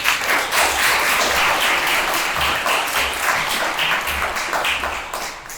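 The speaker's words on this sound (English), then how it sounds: "Let's give a big round of applause to all our students." An audience at a school showcase claps for the students, a sustained wash of applause that holds steady for several seconds before tapering off slightly at the end.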